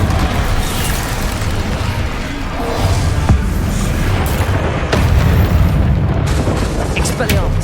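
Incendio fire-spell blasts in Hogwarts Legacy on PS5 roar in a continuous barrage of loud booms and crashing bursts, with a voice speaking over the dense, heavy combat noise.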